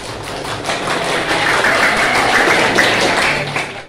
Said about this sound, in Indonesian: Tepuk satu, tepuk dua, tepuk tiga, tepuk tangan.